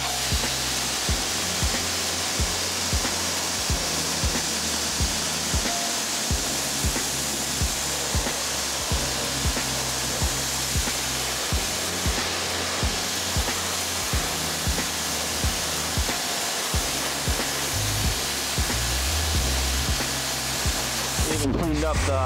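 A steady, loud hiss of water spray rinses cleaner off car wheels and tires, a continuous rushing blast close to the rim that carries on nearly unbroken throughout.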